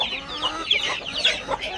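A chicken in a coop clucks and squawks continuously, close and fairly loud, in a string of agitated, uneven calls.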